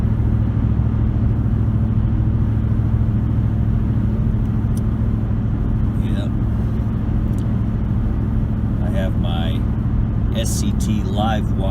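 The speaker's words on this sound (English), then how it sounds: "Nice smooth rumble. About 1500 RPM, 65 mile an hour." A 2008 Ford Expedition cruising at about 65 mph and 1500 RPM gives a steady, smooth low engine rumble mixed with road and wind noise, continuous throughout, while someone talks over it.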